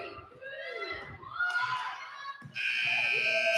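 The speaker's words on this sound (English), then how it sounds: "Shot up right at the buzzer." A loud, steady electronic buzzer sounds near the end to mark halftime at a girls' basketball game between Franklin and Oil City, rising over a noisy gym crowd and an announcer's voice.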